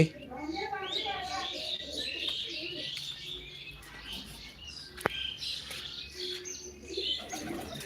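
Pigeons at a rooftop pigeon loft coo and chirp in a busy mix, with occasional wing flaps and a sharp knock, while people talk nearby throughout.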